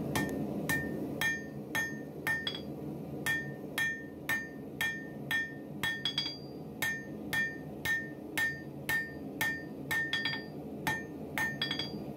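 Hammer blows forge down the shoulders of a steel recurve knife blade, striking in a steady, even rhythm with bright metallic ringing on each hit, fairly close, with no talking.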